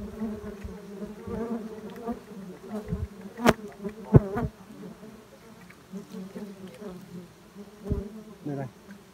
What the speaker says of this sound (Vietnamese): Cái này mà nó đốt cho thì thôi rồi con ong.